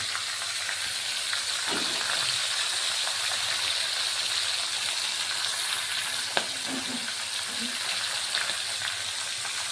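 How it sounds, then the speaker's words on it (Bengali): Pieces of katal fish fry in hot oil for a Bengali fish rasha, giving a steady, dense sizzle throughout with a few faint knocks and clatters over it. "এই দুইটা টুকরা দিয়ে ভাজবো।"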